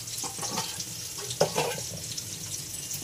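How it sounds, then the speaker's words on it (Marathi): Fish frying in a pan in a home kitchen, a faint crackling sizzle mixed with watery splashing and a brief clatter midway. "सध्या आता फ्राय चालू आहे आमचं."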